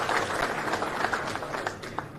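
A crowd at a political rally welcoming a minister in Kudal claps in a loose, moderate patter of many hands, heard from some distance and thinning slightly toward the end.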